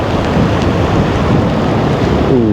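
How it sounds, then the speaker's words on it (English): Strong, icy wind buffets the microphone beside the River Usk in Wales, a loud continuous roaring rumble with no pauses. "that wind is brutal"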